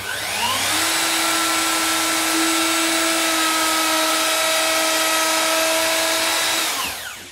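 A router cuts biscuit-joint grooves into a large board being mitred, a loud steady high motor whine running continuously for about six seconds with a rising start and falling spin-down at the end, no talk.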